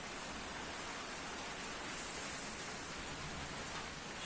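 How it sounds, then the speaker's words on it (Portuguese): Heavy rain pours steadily in Gravatá, a constant, even hiss of water on surfaces heard at a low level, with no voices or other sounds breaking through. "Chuva. Muita chuva. Muita. Muita mesmo."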